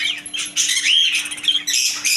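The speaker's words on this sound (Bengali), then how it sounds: "বাচ্চা টাইপের বাজরিকা পাখি জোড়া" Young budgerigars kept in pairs at a bird shop chirp and chatter in a dense, continuous high-pitched twitter, close and lively, with a steady faint hum underneath.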